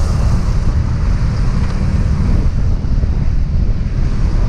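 Strong wind roars and buffets the microphone in a constant, loud rush with no letup and no voices.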